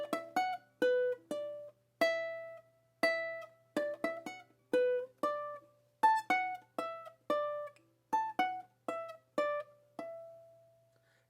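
A ukulele in GCEA tuning plucks the main melodic theme of a song in E Dorian, with clear single notes in a steady, moderately paced rhythm, close and clean with no talking.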